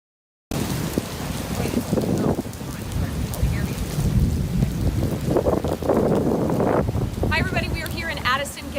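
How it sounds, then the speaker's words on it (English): Heavy rain pours during a storm, a dense, loud, steady hiss with low rumbling that starts suddenly after a brief silence and continues throughout, with a faint tonal chirping near the end. "Now we're seeing a little bit less of a push of rain"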